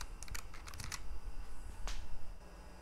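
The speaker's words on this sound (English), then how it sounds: "The Tactile actually has a little more snap in the switch, and it certainly does the name Tactile justice, but it is also not very loud at all." Logitech G915 low-profile mechanical keyboard with GL Tactile switches pressed in quick bursts of crisp clicky taps, fairly quiet and close, with no talk.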